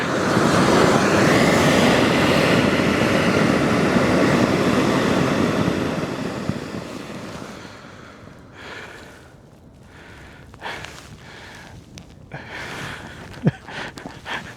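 Rocket thrusters on a homemade rocket-powered toboggan roar in a loud, steady broadband blast for several seconds, then fade to a rougher, intermittent hiss with short bursts and gaps as the burn dies out outdoors.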